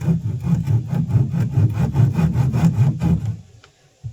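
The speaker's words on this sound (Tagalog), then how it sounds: "tamang lagari muna tayo guys" A hand saw cuts a wooden plank for a boat, with steady rhythmic back-and-forth strokes at about three per second, close and loud, then stopping near the end.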